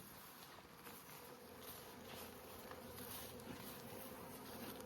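Honeybees hum inside a hive box, a close, continuous low buzz with faint shuffling, quiet and even, with no talking.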